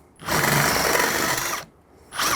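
A power drill cuts a hole through a door for a keypad electronic lock, its loud steady whine holding for over a second, pausing briefly, then starting again in a second short burst.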